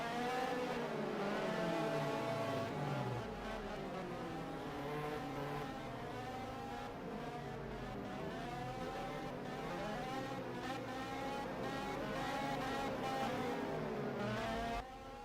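Several stock cars roll around the raceway in an E-Series racing video game, engines droning and revving steadily together for the whole stretch, loud and close with layered harmonic engine tones and no talk.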